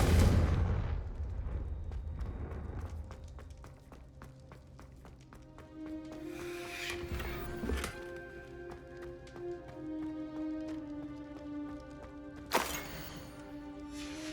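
The Confringo fire spell in Hogwarts Legacy goes off in a loud blast at the start, then gives way to tonal game music with two more sharp bursts later.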